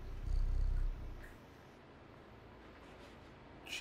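A cat purrs in the video game Stray, a low rumbling purr that swells loudly for about a second and then settles into a softer, steady purring hum with faint background game ambience.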